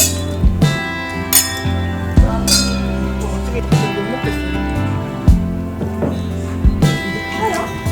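Drinking glasses clink together in a toast during a home meal with guests, a series of bright, ringing taps scattered over several seconds amid background chatter.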